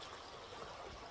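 River water flows steadily in a broad, even wash of gurgling and trickling, close by and fairly quiet, with no voices.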